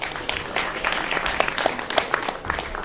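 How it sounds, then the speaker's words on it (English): Attendees at a founder showcase give a round of applause, a close, lively burst of many clapping hands with crisp individual claps, steady throughout the few seconds. "a round of applause for these"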